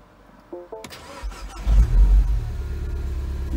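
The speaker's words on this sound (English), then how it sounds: "that's the first time this engine is started" A silver coupe's engine, freshly fitted, starts for the first time: a couple of warning chimes, then the starter cranks and the engine catches with a deep rumble that settles into a steady idle.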